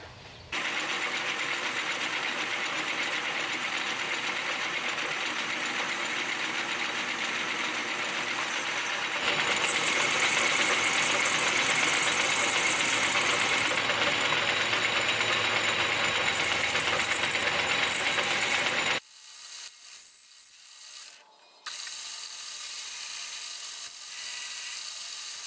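A metal lathe steadily turns down a pin with a high-speed steel cutting tool during repairs on a 6 hp Stover hit-and-miss engine. The continuous machining whir grows louder with a thin high whine partway through, then cuts off near the end.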